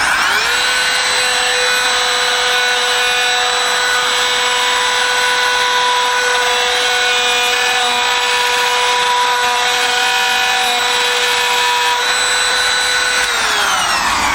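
A Kobalt cordless trim router cuts steadily through a chippy hardwood board during freehand sign carving, giving a loud, sustained high motor whine that rises at the start and winds down near the end.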